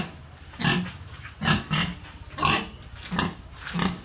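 A pig freshly bathed grunts and snorts in a series of five or six short rough calls at an even rhythm, close by.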